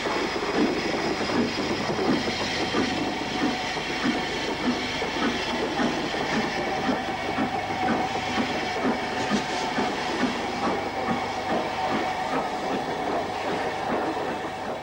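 A Stanier steam locomotive, recently overhauled, reverses away toward Crewe Station, giving a steady, continuous rolling clatter with hiss and rail clicks, fairly close and unbroken throughout.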